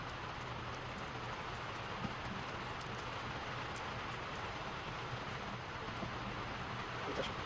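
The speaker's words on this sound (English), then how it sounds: "I know it's raining really loud on this metal building" Heavy rain pounding on a metal building roof during a shock installation in a garage, a steady dense hiss with faint scattered taps that holds without a break, loud and constant.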